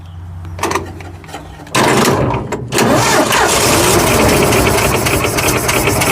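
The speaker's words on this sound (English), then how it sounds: "It's a running truck." A neglected old Ford F100 truck cranks in a few short bursts, then catches and roars into a loud, rough, uneven idle that settles into a steady running rumble close by.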